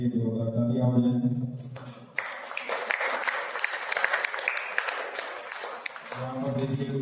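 A church congregation at a Sunday service claps for the offering in a sustained round of applause lasting several seconds, with a voice speaking just before and again as the clapping ends.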